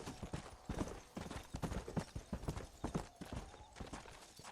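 Horse hooves clip-clop at a steady trot in the Red Dead Redemption video game, a quick rhythmic run of close, fairly faint thuds with no talk over them.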